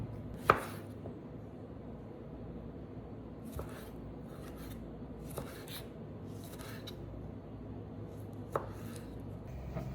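Vegetables sliced on a cutting board, a few isolated knife chops spaced seconds apart over a steady low background hum, quiet and close.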